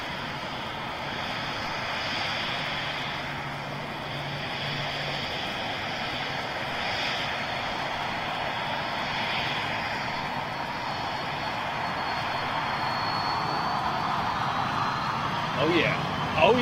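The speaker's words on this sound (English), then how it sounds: "so we'll get a bit of Pratt & Whitney spool up" An airliner's Pratt & Whitney jet engines spool up for takeoff in a steady, distant roar that slowly thickens and grows louder toward the end, with light background noise.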